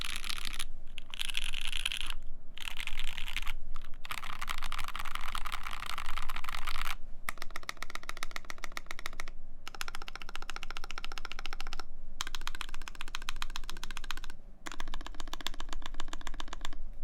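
Fast typing on a custom mechanical keyboard with an aluminum plate, dense clacking keystrokes in quick bursts broken by short pauses, close and fairly loud, with no talking.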